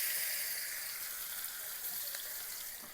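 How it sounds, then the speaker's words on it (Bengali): Chopped onion and tomato sizzle in hot oil in a wok, a steady, soft, hissing fry that holds evenly throughout, with no talking. "প্রথমে কড়াইতে পেঁয়াজ আর টমেটো দিয়ে দেবো, যেই তেলটা রয়েছে সেই তেলের মধ্যেই দিয়ে দিচ্ছি।"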